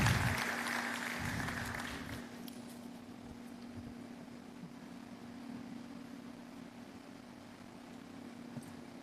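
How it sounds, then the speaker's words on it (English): An audience at a business school lecture series in Lagos applauds as a storyteller comes forward to perform, a brief burst of clapping that quickly thins and fades into a steady room hum. "A round of applause for her, please."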